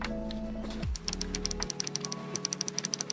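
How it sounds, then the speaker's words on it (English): Mechanical face buttons on a phone gaming controller clicking in a steady, rapid series of sharp, close taps, alone without talk, following a brief low tone at the start. "That, my friends, is a mechanical button, and it is so interesting because it sounds and feels like you're actually clicking on a mouse"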